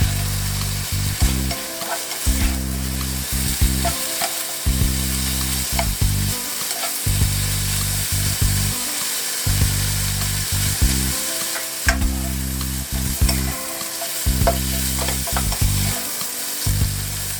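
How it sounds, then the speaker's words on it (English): Shrimp sizzle loudly in a pan during chow mein cooking, a steady crackling fry broken by regular stirring scrapes and short lulls, with no talking. "fry for about 2 minutes till they turn pink"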